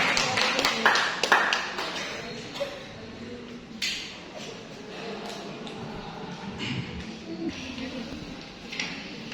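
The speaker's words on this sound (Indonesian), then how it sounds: "Kita beri tepuk tangan yang meriah untuk semangat ibu kita" Scattered audience clapping at a religious gathering in Cisarua, Bogor, with sharp irregular claps early on thinning into sparse, quieter hand claps over a murmuring room.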